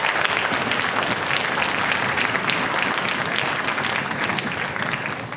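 Steady, dense applause from a school concert audience cheering the 5th grade band, a loud continuous wash of clapping held evenly throughout.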